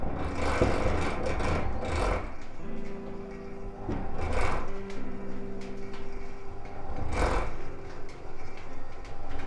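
A centrifugal honey extractor spins honey out of frames, giving a steady mechanical whir and rumble with periodic knocks and clunks as the drum turns, loud and close with no talk.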